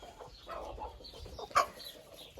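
Chickens clucking at a mechanical hopper feeder on a farm, a busy mix of soft close clucks and rustling with one brief louder squawk near the end.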